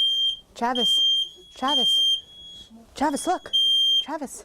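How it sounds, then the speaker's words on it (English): A high-pitched smoke alarm beeps in long repeated tones while a person speaks urgently over it, the alarm pausing briefly between bursts. "don't you hear the fire alarms?"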